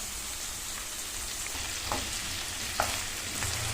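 Cut potatoes added to onions and ginger-garlic paste frying in a pan for aloo roast, a steady sizzling hiss with a couple of soft clicks and stirring scrapes.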